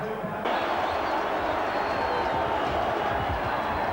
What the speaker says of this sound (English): A huge Kiwi contingent cheer the black and whites on